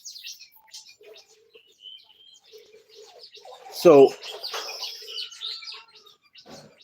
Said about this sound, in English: the brown birds have vacated this place, but the yellow birds have come to this location.